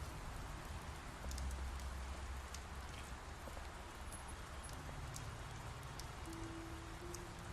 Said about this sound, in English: And it's raining in the back.